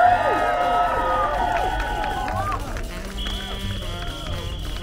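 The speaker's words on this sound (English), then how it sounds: "please give a warm round of applause to Arshad and Arnold" An outdoor crowd at a cost of living protest in February 2022 cheers and whoops with scattered clapping, loud and busy at first then easing off, while whistles and raised voices ring over the noise.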